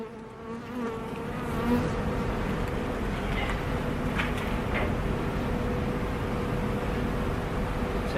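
Honey bees buzz at an open beehive during an inspection, a dense, continuous drone close to the listener, with a few louder passes of individual bees and no talk.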